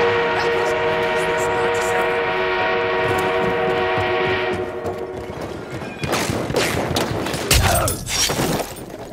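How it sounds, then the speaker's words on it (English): A sustained horn-like tone over rumbling machinery gives way to heavy clanking, crashing and metallic impacts, loud and close, as an armored train moves in Battlefield 1. "armored train is en route."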